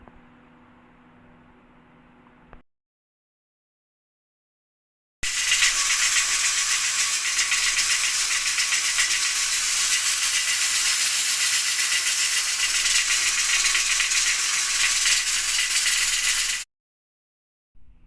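A pressure cooker with beef inside hisses loudly and steadily for about eleven seconds, a constant bright jet of steam with a rattling edge, set between quieter kitchen sounds before and after.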